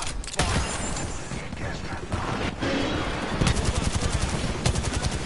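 Rapid automatic gunfire from an Apex Legends match, loud, dense bursts of shots with sharp clicks and crashes running through the whole stretch, ending in quick repeated volleys.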